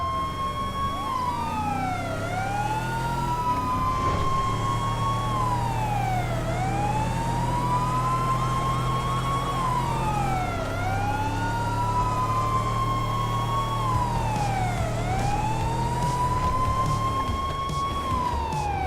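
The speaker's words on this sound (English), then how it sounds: "I can't kill the siren." Emergency vehicle siren in GTA 5 Online wails continuously and loudly, sweeping up and down in repeated long cycles over a steady engine rumble, with no talking.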